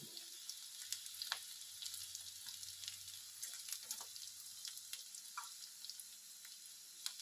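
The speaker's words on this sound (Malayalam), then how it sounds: "കടുക് കൂടെ വറുത്താൽ മതി." Mustard seeds fry quietly in hot oil for tempering, a faint soft sizzle dotted with scattered small crackles and pops.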